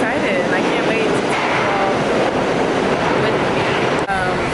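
A train rolls into a station with a loud, steady rumble and rhythmic clatter of wheels on rails, close and continuous, with a brief squeal near the end.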